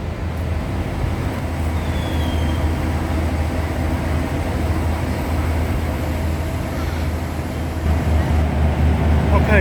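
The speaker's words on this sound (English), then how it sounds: "Okay, so this is the next train." Constant low rumble and rolling drone of a train at Johor Bahru (JB Central) bound for Gemas, steady throughout and close by, swelling slightly near the end.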